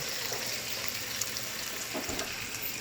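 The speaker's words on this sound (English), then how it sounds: "you saute it just like this" Fried rice sautéing in a pan over medium heat, a steady quiet sizzle and crackle with faint scraping as it is stirred, with no talk.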